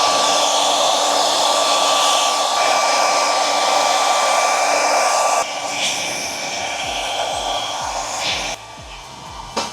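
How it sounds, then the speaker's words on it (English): A hair dryer blow-drying hair straight up on medium heat and medium speed, without its nozzle, gives a loud steady roar, briefly shifting in tone as the airflow is moved around, with no talk over it. "I'm just going to be elevating the hair, blow drying it straight up so we can create some of that volume"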